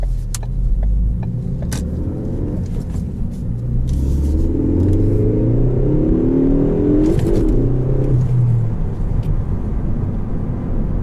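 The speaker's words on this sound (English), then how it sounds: "Let's do a quick acceleration here" A 2018 Ford Focus ST with 252 horsepower pulls hard under acceleration, heard from inside the cabin as a loud, steady engine rumble climbing through the revs, with a gear change or two along the way.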